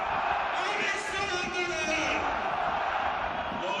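A football crowd at a match in Sevastopol keeps up dense, continuous shouting and chanting, loud and steady with no pauses.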